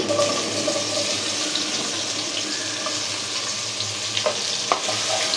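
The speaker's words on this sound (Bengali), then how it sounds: "আমি এখন এই একই তেলে দিয়ে দিচ্ছি পেঁয়াজ কুচি।" Chopped onion fries in hot oil with a dense, steady crackling hiss, joined near the end by a few sharp utensil taps; no voices.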